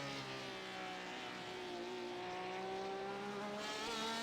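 A race car engine in iRacing drones with a smooth, buzzing harmonic tone, its pitch gradually shifting, fairly quiet and steady.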